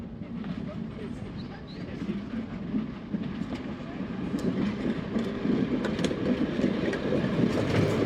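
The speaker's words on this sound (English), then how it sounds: "with the arrival of the well-known bubble car Iris, bringing passengers up from the Great Central Railway" A bubble car diesel railcar on the Great Central Railway arrives at a model railway show, its rumble and clickety-clack wheels rolling steadily and growing slightly louder over eight seconds while people talk in the background.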